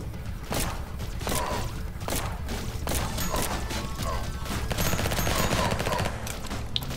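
SMG gunfire in the video game One Million Fatal Guns, rapid bursts of shots over background game music, loud and continuous with sharp cracks throughout.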